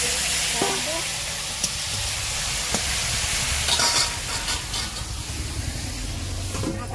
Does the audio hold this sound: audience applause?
no